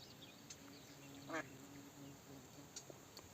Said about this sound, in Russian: Ой, еще и крякает.